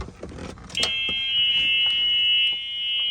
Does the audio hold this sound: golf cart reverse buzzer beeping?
yes